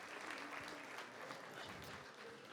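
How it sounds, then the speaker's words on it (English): An audience at a talk on race claps together, a faint, steady wash of applause lasting a couple of seconds with no distinct voices. "Can we get a clap?"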